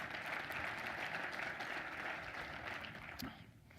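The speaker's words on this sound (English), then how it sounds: "how about a round of applause for Mark for switching so fast, you guys?" Faint but dense applause from an audience at a sales and marketing training seminar, sustained clapping from many people that tapers off at the end, heard at low level with no talk.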